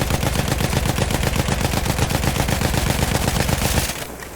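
A Battlefield 1 machine gun fires a long, sustained automatic burst, loud and close, with an even, fast rhythm of shots that stops abruptly near the end.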